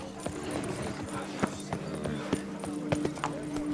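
Geralt's horse Roach in The Witcher 3 clip-clops along at a steady gait, hoofbeats sharp and close under a constant bed of game ambience and music.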